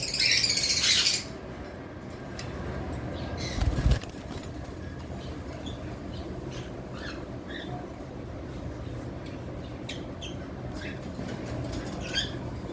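Caged Fischer's and blue lovebirds, including blue Fischer's pairs, give scattered sharp chirps and squawks over a steady background hum.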